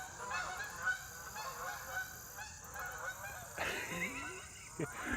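Faint, distant honking of snow geese over a soft background hiss near a woodlot, with a few calls standing out near the end.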